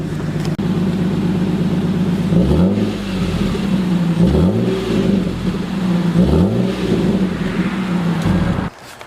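A loud, close car engine revs repeatedly in three strong bursts through a homemade, tack-welded blast pipe exhaust, harsh raspy roar, settling between pulls before cutting off at the end.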